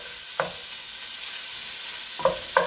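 Ground beef sizzling steadily in a pan, with a few sharp scrapes and taps of a spatula chopping the meat apart, one early and two close together near the end.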